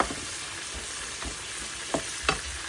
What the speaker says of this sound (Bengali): এই জন্য চিংড়িটা হালকা করে ভেজে নিলাম